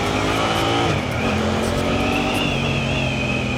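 Suzuki GSX-8R motorcycle engine pulling steadily as the rider rolls on the throttle, a continuous loud drone with rising pitch throughout, close and without talk.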